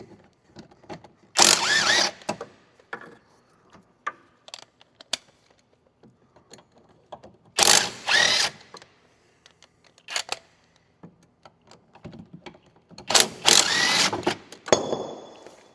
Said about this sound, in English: 17mm bolts that are located on the back of the knuckle. And you should just be able to loosen all of those off one at a time.